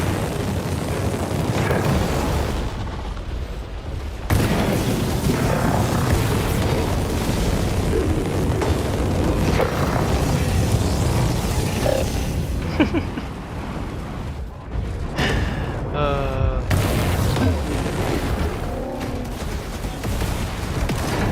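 Robot turret fire and explosions from the War Robots Frontiers game come as booming blasts and rattling bursts over a loud, continuous battle din, briefly dropping out twice.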